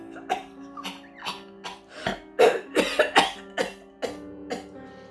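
Repeated harsh coughing, about a dozen bursts in an uneven run, loud and close, with no talking.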